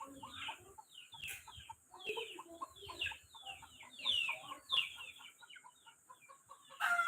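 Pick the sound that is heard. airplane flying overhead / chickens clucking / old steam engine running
chickens clucking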